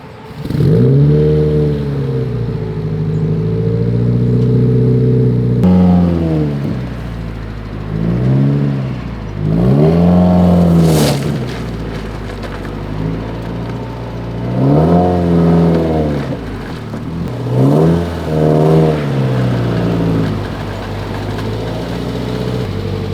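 A 2015 Subaru WRX, widebody and bagged, revs its engine in several rising and falling bursts close up, loud and rough over a steady idle, with no talking.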